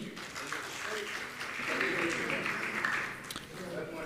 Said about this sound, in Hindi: आप जोरदार तालियों से इनका सम्मान करें